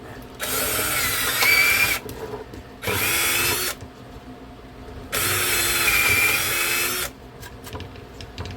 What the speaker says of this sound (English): let me drill these out real quick